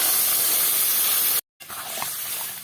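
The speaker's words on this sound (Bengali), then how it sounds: "এখন আমি দিয়ে দেবো এখানে জল এই জায়গায় আমি এক মগ গরম জল নিয়েছি" Hot water hisses and sizzles as it is poured into frying masala in a pan, with a steady, close steamy spray, a brief cut partway through, then quieter bubbling sizzle.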